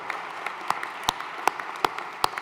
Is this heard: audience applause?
yes